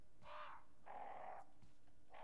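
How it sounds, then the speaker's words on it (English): Crows caw in a Resident Evil video game, three harsh, drawn-out calls spaced about half a second apart, fairly close and clear against a low ambient background with no talking. "that's the crows, isn't it?"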